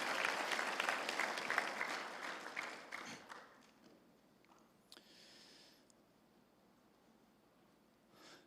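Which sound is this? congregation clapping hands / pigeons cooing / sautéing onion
congregation clapping hands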